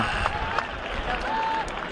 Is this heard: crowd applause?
yes